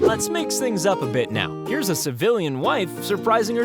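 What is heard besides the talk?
No everyday noises stand out.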